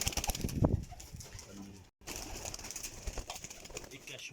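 Pigeons cooing at a breeder's loft, soft low coos and some wing rustling throughout, with faint background voices and a brief dropout midway.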